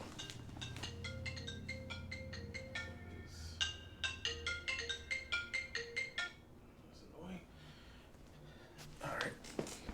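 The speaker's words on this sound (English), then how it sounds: "I'm sorry for the phone." A phone ringtone plays a repeating electronic melody for several seconds, then stops, followed by soft, quiet talking.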